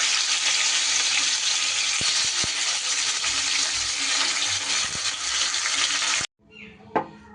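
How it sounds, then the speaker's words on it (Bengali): Fish fry in hot mustard oil in a wok with a loud, dense, continuous sizzle and a few sharp clicks. The sizzle cuts off abruptly near the end, leaving brief quiet handling noises. "তেল খুব ভালো করে গরম হয়ে গেলে এবার মাছগুলোকে ভেজে নিতে হবে।"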